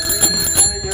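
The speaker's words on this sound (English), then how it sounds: "Most important, make sure your bell works." A bicycle bell rings with bright metallic tones in a short repeated burst, close and loud, with no talking.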